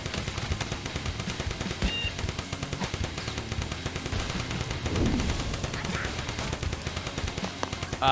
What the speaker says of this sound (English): is a powerful machine gun